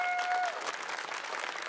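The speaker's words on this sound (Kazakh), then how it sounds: "Айқара көздің құрметіне дуғыл шапалақ соғып қояйықшы" Short burst of audience applause at a televised children's singing contest, a blind audition round, steady and moderately loud, with a fading sung note at the start.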